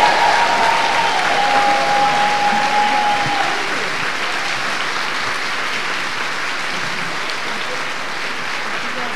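Loud, sustained applause from a Catholic congregation in worship, a thick wash of clapping that starts over a held tone and eases slightly after a few seconds but keeps going steadily.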